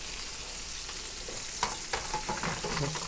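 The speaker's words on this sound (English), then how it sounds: "We can reheat all that in the same pan." Reheated steak tips cut from beef tenderloin sizzle steadily in a hot pan, a constant frying hiss with a few sharper crackles and stirring scrapes toward the end.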